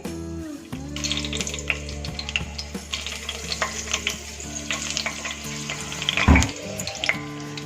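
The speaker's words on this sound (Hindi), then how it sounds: "और ये हरी मिर्च मैं डाल रही हूँ इस तरह से स्लिट करके" Slit green chillies sizzle and crackle in hot oil in a pan for chicken curry, a dense continuous frying hiss with stirring clatters and a louder burst near the end.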